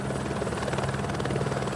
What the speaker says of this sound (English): When a helicopter arrives at base camp, it means a person is in need of immediate evacuation.